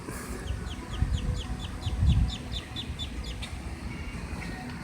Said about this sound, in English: You see how the little duck coming?